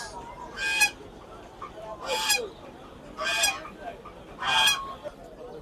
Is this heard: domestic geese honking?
yes